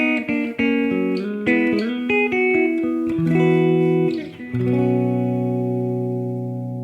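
Electric guitar played through a very warm preset on a Fractal FM3 modeler, with sustained chords and single notes ringing out, moderately loud and alone, with some reverb-like tail.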